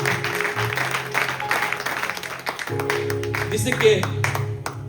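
Church congregation gives a round of applause as an offering to God, a rough, continuous clatter of clapping hands running under a preacher's voice and music.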